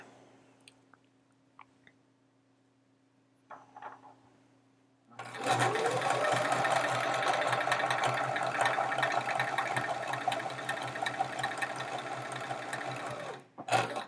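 After a few faint knocks and clicks, a sewing machine starts up and runs steadily for about eight seconds while stitching quilt chevrons, a close, even mechanical whir that stops abruptly near the end.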